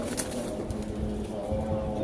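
Market-bought pigeons coo close by in soft, low repeated throaty notes under a steady background rumble, with a brief sharp sound at the start.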